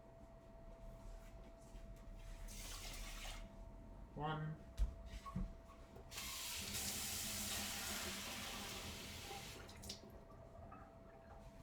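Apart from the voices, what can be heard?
water poured into pot for cooking rice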